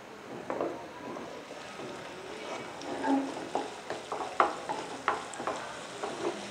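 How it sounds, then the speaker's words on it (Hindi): Onion and chopped ginger sauté in oil in a frying pan with a soft steady sizzle, broken by a run of stirring scrapes and small clatters close by, and no talking. "हमने इसको प्याज और अदरक को मिक्स किया है, बस ऑयल में सौते किया"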